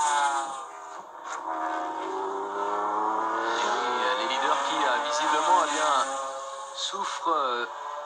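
A race car at the 1995 Le Mans 24 Hours brakes hard into a corner, its engine note sweeping down through the gears with tyre squeal, loud and close, while a commentator talks over it throughout.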